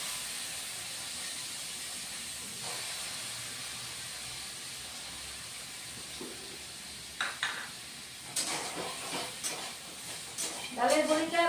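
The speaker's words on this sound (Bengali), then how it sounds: "এখন ডালের বড়িটা ভেজে নেব।" Lentil dumplings (dal bori) fry in hot oil with a steady hiss and sizzle, after a batch of fried ridge gourd, joined near the end by louder scraping stirs in the pan.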